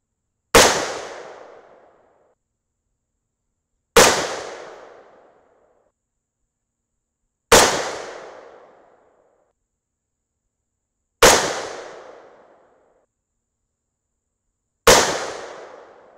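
Five loud, sharp rifle shots from a Thompson Center Compass 6.5 Creedmoor fitted with a VG6 Gamma ring out at an even, slow pace, each a crisp crack followed by a fading echo and then silence.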